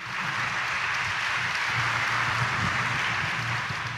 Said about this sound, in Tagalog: Yung pagpalakpak ninyo ng ganyan